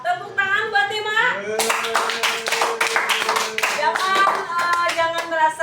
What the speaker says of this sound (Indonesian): Tepuk tangan buat tim A.